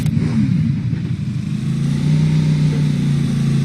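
Motorcycle engine in PUBG: a steady mid-pitched motor hum with slight revving, close and loud, running alone for a few seconds.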